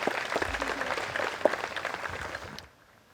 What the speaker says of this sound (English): that crowd going wild